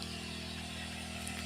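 A motorized pesticide sprayer runs steadily in a capsicum field, its engine giving a continuous, even drone with a low hum throughout and no talk over it.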